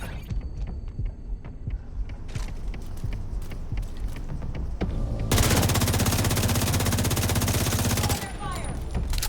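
An enemy fires an RPG in The Division 2, set amid rattling gunfire and scattered shots, with a loud sustained roaring blast of the launched rocket taking over midway before the shooting resumes.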